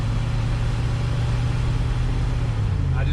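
An abandoned Ford Thunderbird, revived after 25 years, drives with a steady close engine hum that is lightly pressed and shifts pitch slightly near the end, under cabin noise.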